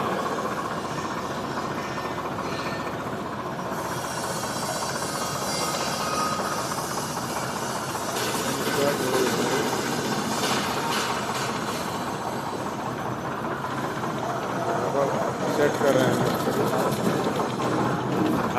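A tractor-driven Purvanchal di50 mini rice mill running, a loud, steady mechanical rumble and clatter with dense whirring and rattling that holds throughout and swells slightly toward the end, no talking.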